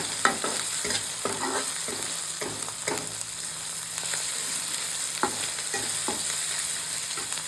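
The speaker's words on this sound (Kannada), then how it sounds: "ಇದನ್ನು ಸ್ವಲ್ಪ ಹಸಿ ವಾಸನೆ ಹೋಗೋವರೆಗೂ ಫ್ರೈ ಮಾಡ್ಕೊಂಡಿರೋಣ." Crushed ginger and garlic fry in oil in a pan for mutton pepper dry, giving a steady close sizzle with repeated scraping stirs of a spoon against the pan.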